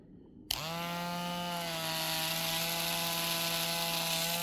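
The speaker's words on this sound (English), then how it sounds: "you turn the Dremel on. It's going to be a little loud" A Dremel rotary tool starts with a click and then spins up to a steady, high-pitched whine that stays loud and constant nearby.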